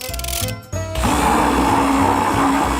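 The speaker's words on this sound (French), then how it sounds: "Je le mets dans le mixeur." A blender whirs loudly, mixing ice cream, Nutella and milk into a milkshake; a short stutter of blade noise comes first, then a steady, close, continuous grinding roar.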